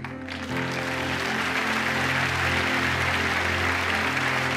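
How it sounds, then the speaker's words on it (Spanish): Church congregation applauding, a dense sustained wash of clapping that starts abruptly and holds loud and steady throughout. "¡Dale un aplauso al Rey!"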